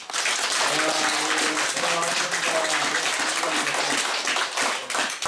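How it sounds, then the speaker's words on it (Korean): Members of a Daegu cultural heritage society clap for their chairman in a lecture room at a course review meeting, a steady round of applause with faint voices mixed in. "우리 명 회장님 큰 박수 한번 주십시오"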